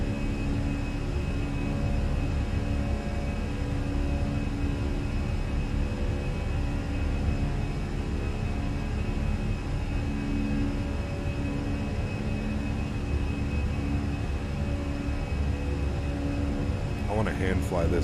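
Fenix A320 airliner climbing after takeoff with flaps clean in Microsoft Flight Simulator, a steady, dense engine roar and cabin hum holding evenly throughout, with a brief faint tonal sweep near the very end.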